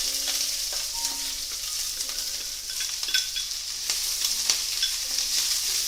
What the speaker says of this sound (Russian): И теперь самое время добавить нашу молодую капусту.